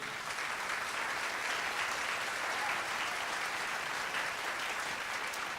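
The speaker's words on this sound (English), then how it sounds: "let's also give Karen a round of applause, too" Sustained applause from an audience at an awards ceremony, steady and dense throughout, heard from a distance in a large room with no talking over it.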